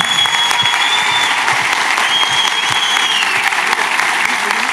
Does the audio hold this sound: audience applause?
yes